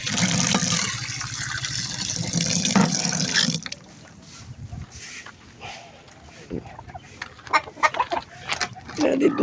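Hens cluck and squawk at feeding time, loud and busy at first, then thinning into scattered clucks and pecking noises with a few murmured voices in the background.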